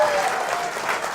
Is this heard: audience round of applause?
yes